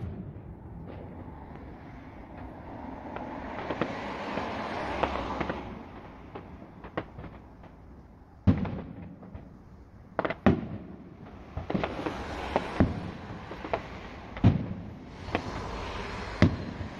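Fireworks bursting in a rapid, irregular barrage, sharp loud cracks and booms over a continuous crackling rumble, some blasts close and punchy, others more distant.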